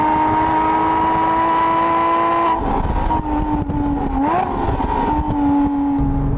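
A Porsche 911 GT3 (997) with its 3.6-litre Mezger flat-six, revving to 8,400 RPM, wails at a high steady pitch, then shifts and climbs again under hard acceleration, loud and close throughout.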